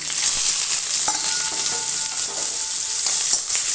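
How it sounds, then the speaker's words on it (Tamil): Onions sauté in a hot pan where mustard seeds and urad dal have already been fried, giving a steady close sizzle with a few soft stirring scrapes. "வெங்காயம் நல்லா வதங்கட்டும்"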